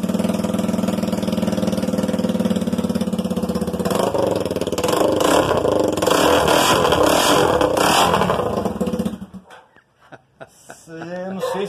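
A motorcycle engine runs on its exhaust, a steady idle with a clattering rumble. It swells briefly and then cuts off near the end, leaving faint noise and some talking nearby.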